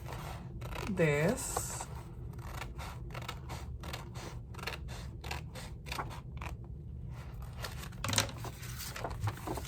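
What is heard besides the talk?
scissors cutting a file folder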